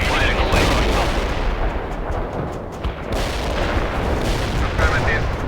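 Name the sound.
mortar barrage in video game World in Conflict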